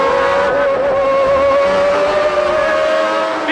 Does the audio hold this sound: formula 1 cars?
yes